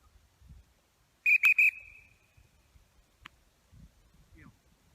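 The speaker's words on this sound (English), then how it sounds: "just don't even say sit, just blow the whistle." A dog training whistle gives one loud, sharp blast of under a second, ringing at a steady high pitch, followed by faint rustling and quiet background noise.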